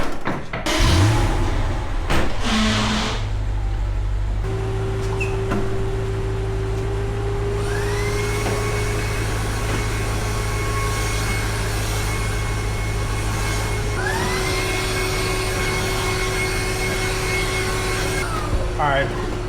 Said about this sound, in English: I need a stronger vacuum.